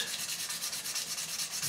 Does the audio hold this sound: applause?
no